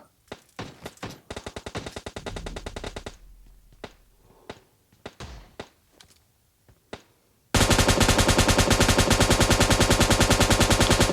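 Video game gunfire: a burst of rapid automatic shots, then scattered single shots and thuds, ending in a loud, sustained stream of fast automatic fire with no talking.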